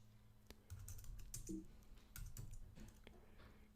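Keys clatter on a computer keyboard as a Linux command is typed, a quick run of close clicks and taps with a brief pause mid-way, with no talking.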